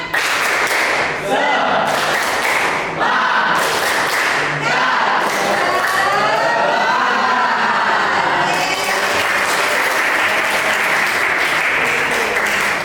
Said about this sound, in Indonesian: Ya, ini tepuk tangan. Yuk, tepuk semangat.